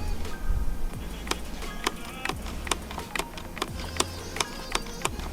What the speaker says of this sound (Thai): อันนี้เสียงของบาวนะครับ เป็นคีย์แคป กระทบกับตัวแผ่นหน้านะคีย์บอร์ด